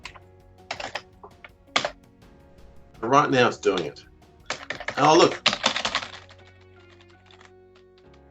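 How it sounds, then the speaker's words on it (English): Fingers type on a computer keyboard in a few clustered bursts of quick, close clicks and clacks, with isolated keystrokes between them, while someone speaks briefly at the same time. "I'm typing and nothing's happening."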